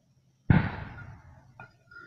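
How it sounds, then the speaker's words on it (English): A single loud firework blast bursts outside near a house at night, followed by a fading crackle and a fainter second pop. "I don't like those fireworks."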